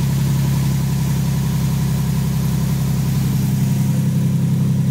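A Jeep engine, just brought back to life after sitting nearly three years, idles with a steady low rumbling drone, close and even throughout with no revving.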